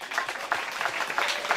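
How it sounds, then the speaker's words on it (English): An audience at a school swearing-in and handover ceremony gives a brief burst of scattered hand clapping, fairly close, with no voice over it. "Round of applause for him."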